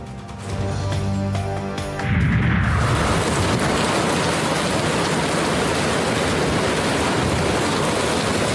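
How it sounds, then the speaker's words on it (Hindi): Heavy monsoon downpour in Chakwal, Pakistan, a dense, loud hiss of rain pounding surfaces that swells after a brief opening moment and then holds steady and close throughout. "चकवाल में वक्फे से मूसलाधार बारिश।"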